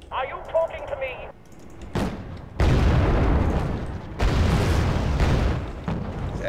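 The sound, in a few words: artillery explosions in the video game Wargame AirLand Battle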